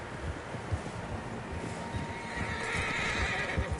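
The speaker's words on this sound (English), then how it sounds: "Horses, quite a few of them." Several horses in Red Dead Redemption II whinny loudly over a wind-blown backdrop with scattered hoof clops, ending in a rising, sustained neigh.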